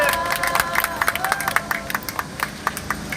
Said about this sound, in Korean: 더욱 힘내시라고 박수 좀 부탁드리겠습니다.